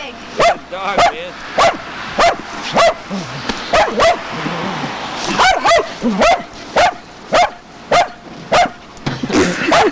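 A dog outdoors in a heavy snowstorm barks repeatedly in loud, close, evenly spaced bursts, with yips and whimpers between barks and people talking underneath during a snowball game.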